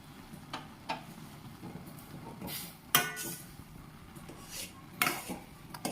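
Metal utensil clinking and scraping against a pot while masala is stirred into Maggi noodles, with several sharp clinks scattered over a soft, uneven scraping.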